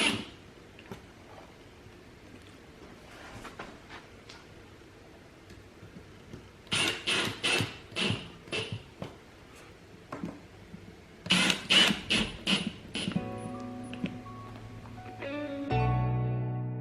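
Rails being screwed in while assembling IKEA Malm furniture, bursts of rapid ratcheting clicks from a screwdriver in two runs, with softer handling knocks between and a faint mechanical whine near the end.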